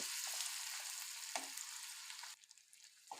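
Ginger, garlic, green chillies and curry leaves frying in oil for a bitter gourd curry make a faint, soft hiss that drops away after about two seconds, with no talk.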